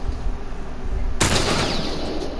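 A burst of video game gunfire hits suddenly partway through, loud and sustained, over a steady background hum, with no voices in this stretch.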